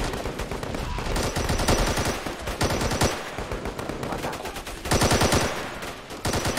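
Machine gun fire in the Call to Arms war game, set in a battle at an Afghan village. Rapid, dense bursts of automatic fire run almost continuously with brief gaps, loud and close, with no talk.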